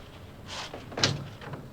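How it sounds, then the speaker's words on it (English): A door opens in a scene from The Godfather Part II, a soft brief sweep followed by a sharper latch clack, fairly quiet and with no talk. "now, let me open the door, all right?"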